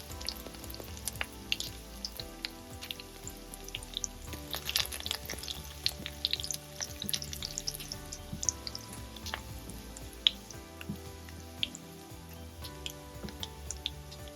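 Garlic, then onion, sizzling and crackling steadily in hot oil in a pan for a Marathi tomato pithla, with scattered pops and ticks over a continuous frying hiss and no talk.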